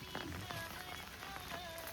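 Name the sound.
rain falling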